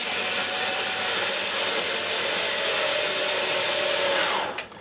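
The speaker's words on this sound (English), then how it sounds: "get our screwdriver on top of the screw and then lower it down into the hole." Powered screwdriver drives a screw into the body of a Miele S6 C2 Compact S6220 vacuum cleaner during reassembly, a loud continuous whine close by that cuts off abruptly at the end.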